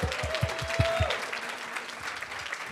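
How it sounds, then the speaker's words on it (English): Audience applause at an entrepreneur pitch night in Silicon Valley, a broad wash of clapping that holds steady for nearly three seconds, with a few low thumps and a brief tone early on. "Can we give it up for all of the entrepreneurs who pitched tonight?"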